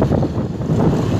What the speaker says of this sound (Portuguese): com esse vento forte.